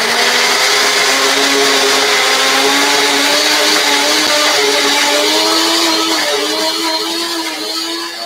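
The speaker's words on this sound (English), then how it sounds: "this is going to be blended up on the blender" A kitchen blender whirs loudly and steadily while blending curry ingredients, its motor pitch drifting slightly as the contents churn, close and continuous with no talking.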